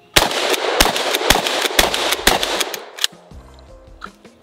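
A Winchester Extreme Defender pump shotgun fires birdshot, six loud sharp blasts in quick succession about half a second apart, followed by pump and handling clatter, close by.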